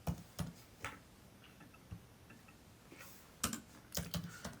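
Computer keyboard typed with one hand, sparse irregular clicks in small clusters with pauses between, quiet and close, no voices.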